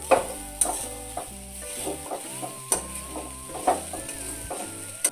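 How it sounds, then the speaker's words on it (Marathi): A corn mixture with chopped coriander sautéing in a pan, a soft sizzle under rhythmic scraping stir strokes of a spoon, heard up close with no voices. "परतून घेऊ"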